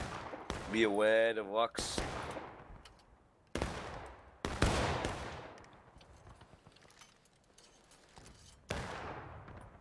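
Volleys of musket gunfire in a Civil War video game battle, several sharp loud shots with decaying echoes spread over the stretch, one burst near the start mixed with a brief voice, and people talking between shots.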